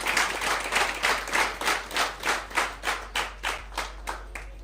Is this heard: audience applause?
yes